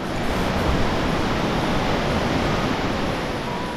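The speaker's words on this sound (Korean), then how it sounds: "졸졸졸 합류하는 청아한 계곡 물소리가 마음을 깨끗이 씻어주어요" A valley stream rushes past close by, a loud, dense and constant wash of flowing water with no pauses.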